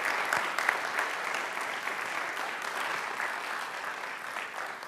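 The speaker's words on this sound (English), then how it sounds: "How about another round of applause for our speakers and for Michael?" A round of applause from an audience after a series of talks, moderately loud and continuous, tapering slightly toward the end.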